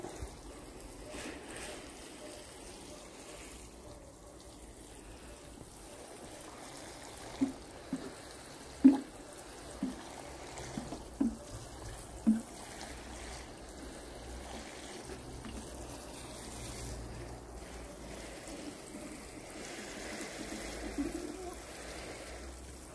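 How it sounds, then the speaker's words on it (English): Water running steadily while flowers are watered outdoors, a continuous soft trickling and splashing with a few brief louder splashes or knocks partway through, and no talking. "Time to water these flowers."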